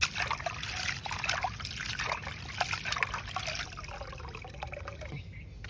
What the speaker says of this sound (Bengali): চালগুলো এখন আমাকে ভালো মতো ধুয়ে নিতে হইবে।